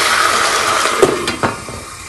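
Water splashes into browned onions frying in oil, with chicken, in a pan for yakhni pulao, setting off a loud, close, continuous sizzle and hiss with a couple of sharper spatters.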